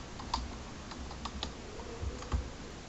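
Someone types a search on a computer keyboard, close and fairly quiet, with a quick scatter of irregular key clicks and a few heavier taps.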